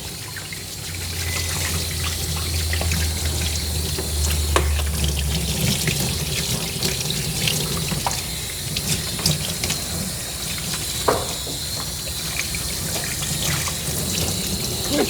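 Water runs steadily over a Coton de Tulear dog as it is rinsed during a full grooming bath, a constant close spray with small splashes and handling knocks throughout.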